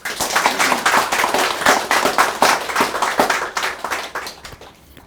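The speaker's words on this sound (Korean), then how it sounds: "박수 한번 주세요" Loud, close audience clapping at a first-anniversary ceremony for a Sarangbang branch in Dongtan, with rhythmic bursts of many hands that taper off toward the end.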